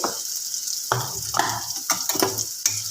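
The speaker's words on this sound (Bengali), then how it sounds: "হলুদের গুঁড়োটা দিয়ে আমি এবার একটু নাড়াচাড়া করে নিই" Papad curry with turmeric powder gets stirred in a hot pan, with a steady sizzle broken by several sharp scraping strokes of the spoon close by.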